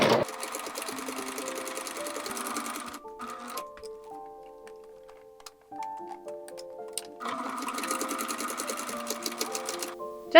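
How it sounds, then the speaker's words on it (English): A sewing machine runs in two steady bursts of rapid, rhythmic stitching, sewing a decorative edge along the straps of doll overalls, with a quieter pause and faint handling sounds between them. "With the straps, you'll sew a decorative edge on both sides of the strap."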